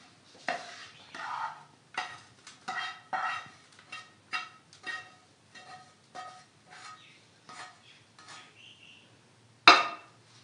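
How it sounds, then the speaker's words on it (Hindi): Warm besan ladoo mixture is scraped and spooned out of a pan into a vessel, giving a series of irregular metallic scrapes and clinks with one sharp louder knock near the end. "अब हम इसको एक बर्तन में निकाल देंगे"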